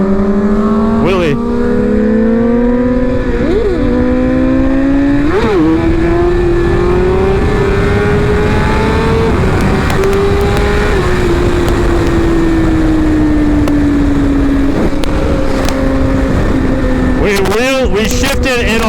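A BMW S1000RR sport motorcycle accelerates hard through a wheelie, its engine note climbing steadily with several quick dips at gear shifts, loud and close, with wind noise and a brief burst near the end.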